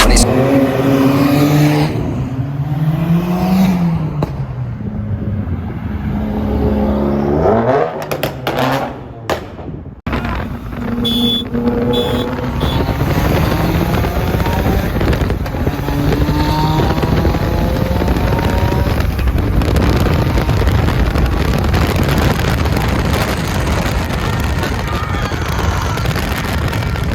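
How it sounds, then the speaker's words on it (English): Car engines rev and roar loudly through most of the stretch during a street race, with rising and falling pitch sweeps from passing cars and a brief drop near the middle; voices are heard among them. "Apparently we're out racing."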